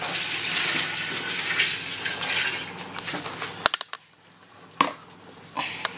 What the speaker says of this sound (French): je mets la quantité d'eau suffisante